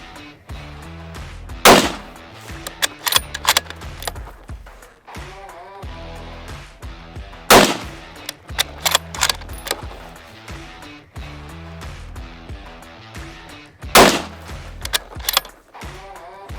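Three sharp rifle shots from a Sako 90 firing Sako 123 grain Gamehead rounds ring out at roughly six-second intervals, loud and close, with handling clatter and bolt-like clicks between them.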